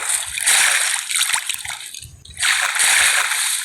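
Water splashes and sloshes in Minecraft in two loud rushing bursts separated by a short quieter gap, close and bright.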